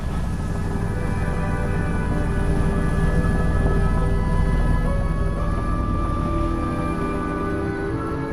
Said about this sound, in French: J'apprécie ma première expérience en hélicoptère.